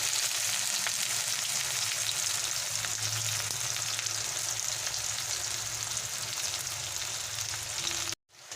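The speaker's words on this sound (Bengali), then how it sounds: "পেঁয়াজটাকে আমি ভালো করে ভেজে নেব সুন্দর করে পেঁয়াজটাকে ভেজে নেব" Two hundred grams of chopped onion fry in hot oil with a loud, steady, crackling sizzle close by, broken by occasional soft stirring sounds, then cutting off abruptly near the end.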